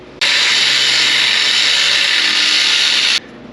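A piece of rectangular steel tube being cut with a power tool in a shop while building a 1930 Dodge monster truck: one steady, loud, high whining grind that starts abruptly, holds for about three seconds, then stops cleanly.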